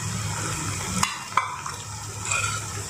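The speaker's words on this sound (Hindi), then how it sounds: "अब हम बहुत अच्छी तरह से सबको मिक्स कर देंगे।" Mixed vegetables, including red and yellow bell peppers, are stirred in a pan for a shahi veg biryani, with a soft steady sizzle and a few sharp spoon scrapes and knocks against the metal.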